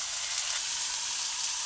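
Garlic, ginger and onion fry together in hot homemade ghee, giving a steady, close, bright sizzle with a faint crackle that holds evenly throughout.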